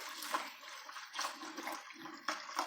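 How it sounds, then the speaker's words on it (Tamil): Rinse water splashes from a small vessel into a pot of buttermilk (moor) rasam seasoned with curry leaves and coriander. It comes as a close pour in short, uneven bursts, with no talk over it. "கொஞ்சமாக தண்ணி சேர்த்து கழுவி ஊற்றிக்கலாம்"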